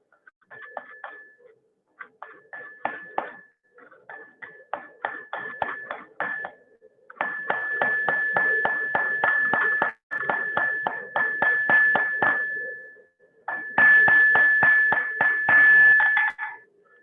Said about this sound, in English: So this next heat is just to forge that taper round.